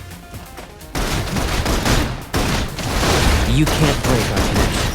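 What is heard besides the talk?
suppression gunfire in video game Love and DeepSpace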